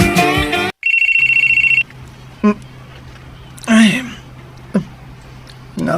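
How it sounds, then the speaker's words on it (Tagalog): A cellphone rings with a steady electronic tone for about a second, followed by intermittent beeps and brief vocal sounds in a quiet room. "Nga akong cellphone ni Ray"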